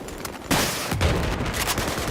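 Gunfire in Battlefield 4 during an Obliteration match, loud dense shots and blasts starting abruptly and continuing steadily with heavy low booms mixed in.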